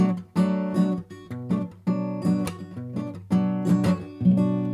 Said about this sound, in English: Now again, with my thumb, it just sounds like this.